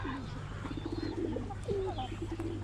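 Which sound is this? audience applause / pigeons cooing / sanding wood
pigeons cooing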